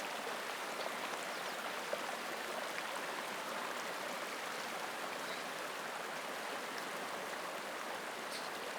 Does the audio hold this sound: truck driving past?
no